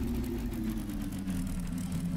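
Curtiss P-40F Warhawk engine in the Flight Sim World game, a steady low droning hum with heavy bass, its pitch easing slightly as the RPM drops, continuous and close with no talk.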